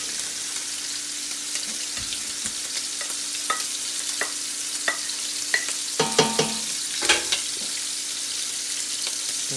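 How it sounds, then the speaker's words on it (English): Vegetables for chestnut dressing slid into a hot pot, giving a continuous sizzle with scattered clinks and a cluster of louder scraping knocks near the end, close and without talk. "Slide our vegetables into the other pot here."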